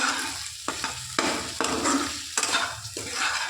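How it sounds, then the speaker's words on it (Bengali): Salt, turmeric and dried chili powder stirred and fried in a pan: close, brisk scraping strokes over a bright sizzle, with quick utensil clinks between passes and no speech. "এখানে রেখে দিয়েছিলাম লবণ হলুদ আর শুকনো লঙ্কার গুঁড়ো এটাকেও দিয়ে দেবো দিয়ে ভালো করে কষিয়ে নেব"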